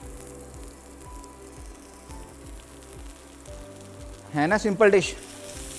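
Red chili and garlic tempering sizzles in a pan as a low, steady hiss, with a person talking over it near the end.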